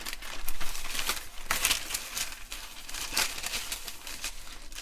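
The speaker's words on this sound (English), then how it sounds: "Just a bit of kitchen paper. Then just tear it." Kitchen paper being torn by hand at close range, a series of short crisp rips and crinkles spread over several seconds, with no talking.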